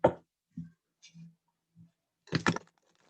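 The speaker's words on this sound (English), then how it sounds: "I think I'll just give it one of these shuffles" A deck of tarot-style cards being shuffled by hand, heard as a sharp riffle at the start, a few soft separate taps, then a dense burst of card flutter near the end, close and quiet with no talk.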